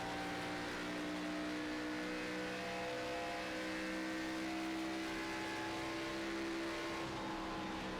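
Race car engines in a stock car racing video game at Vegas, a steady droning whine of revving motors with sustained tonal pitch, fairly quiet and even throughout, no talk.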